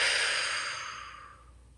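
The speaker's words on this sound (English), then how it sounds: "Deep, deep breath." One deep breath is let out slowly in a quiet room, a close, soft airy exhale that starts full and fades away over under two seconds.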